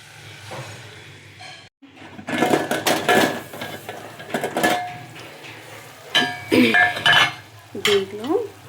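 Washed chicken sizzles in hot tempering oil as its water cooks off, with a ladle stirring and scraping the pan in bursts, loud and close, and brief sizzling swells between quiet gaps.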